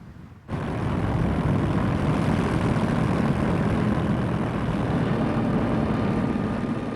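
Luftwaffe bombers over Malta in early 1941, a loud steady drone of heavy aircraft engines that starts abruptly and holds evenly throughout, with no voices.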